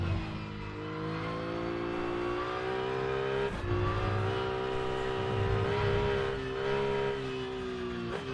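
A race car engine in the video game Rennsport drones loud and steady through a lap, its pitch rising and falling with gear changes, with no one talking.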